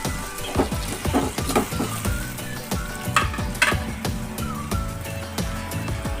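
Vegetables for sambar frying in a pan, a steady, dense crackling sizzle with scraping stirs and soft clinks throughout, close and continuous with no talking.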